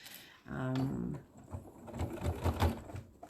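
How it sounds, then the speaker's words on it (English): A home sewing machine runs a top stitch around a raw-edge quilt applique, a brief steady whir followed by uneven rapid mechanical chatter, fairly quiet and close. "stitch an outer stitch all the way around, like a top stitch, just to hold that together"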